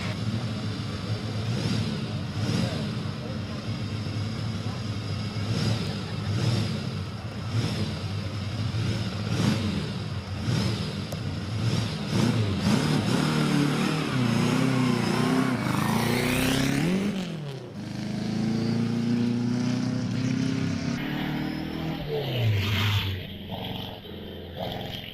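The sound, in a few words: Type 51 racing car engine accelerating at Prescott hillclimb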